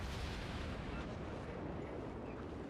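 Dense, rumbling naval gunfire and shell impacts against a heavy cruiser in World of Warships, a continuous loud roar with no clear breaks.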